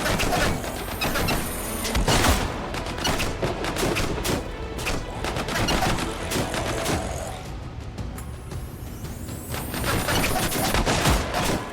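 Sniper gunfire in the video game Anthem, part of a dense, nonstop barrage of rapid shots and blasts that stays loud and chaotic throughout.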